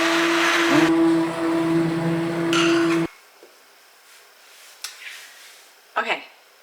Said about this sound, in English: I'm going to run an immersion blender in the applesauce